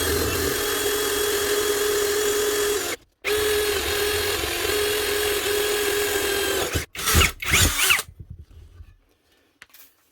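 A Psogpone cordless drill, a Makita copy, runs loudly and steadily with a high whine, cuts out briefly, then resumes before several short bursts and a final stop.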